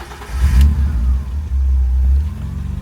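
A 1987 BMW 325i E30 convertible, due for a tune-up, cranks and catches, then settles into a loud, close, steady idle with a low rumble and slight unevenness.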